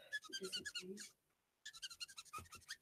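A coloring marker squeaks in short, close, repeated strokes across paper, two quick clusters of high chirps separated by a brief pause.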